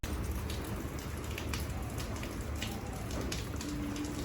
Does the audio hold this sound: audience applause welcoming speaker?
no